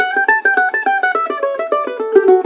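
Mandolin picked with a thick Golden Gate pick, a quick run of bright, evenly spaced plucked notes with sharp attacks, close and alone.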